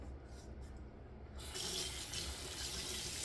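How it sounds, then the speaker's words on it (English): Tap water runs into a sink to rinse a Wholly Kaw Monaco Royal shaving brush and Feather SS Kamisori straight razor, a steady close hiss that swells louder halfway through. "I'm gonna rinse this off,"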